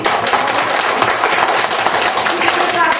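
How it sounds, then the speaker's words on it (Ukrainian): Schoolchildren in a second-grade classroom give a group of pupils a steady round of clapping, dense and close throughout, with a voice speaking over it. "Будь ласка, аплодуємо цій групі."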